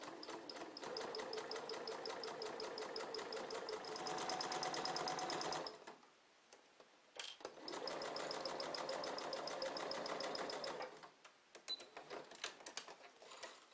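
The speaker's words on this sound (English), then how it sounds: "put my foot down, and just start sewing right along the edge of the ribbon" A sewing machine stitches along the edge of a ribbon on a workout headband, running steadily in two long bursts of rapid, even needle clatter separated by a brief pause, close and loud with no talking.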